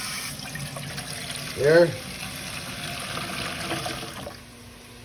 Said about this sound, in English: add water to your seasoning pot